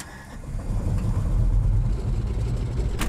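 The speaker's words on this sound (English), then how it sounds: "there's nothing in the world that sounds quite like that engine" A de Havilland Beaver airplane's radial engine runs steadily and loud throughout, a deep throbbing drone with a rough, pulsing low rumble and no talk over it.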